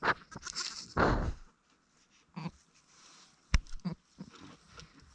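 On a farm, a goat gives a few short, close bleats between quiet gaps, mixed with light shuffling and pattering sounds.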